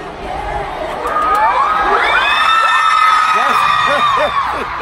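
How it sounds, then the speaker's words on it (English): Large crowd of fans at a concert screaming and cheering loudly, with high whoops and shrieks rising and falling continuously over a dense roar of voices. "And people are screaming off of the music video."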